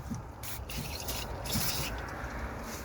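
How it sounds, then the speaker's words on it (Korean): A can of penetrating electrical contact cleaner hisses in several close bursts while spraying onto electrical connection points of farm machinery, each spray separated by a short pause. "그 전기가 연결되는 부위 오래 사용하다 보면 먼지도 묻고 녹도 쓰게 되고 그런 것들을 해결해서 그 전기 전도를 잘 되게끔 해주는 스프레이예요"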